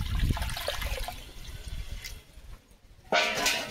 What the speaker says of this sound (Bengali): কড়াতে জল দিয়ে দিচ্ছি।